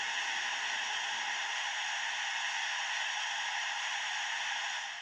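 A steady, continuous blower hiss from the sound system of a Hornby Large Prairie 61XX model steam locomotive, even and unbroken for several seconds, easing slightly at the very end.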